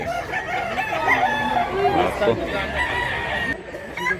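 A rooster for sale crows nearby in a single drawn-out call while someone talks over it, with other birds faintly audible in the background.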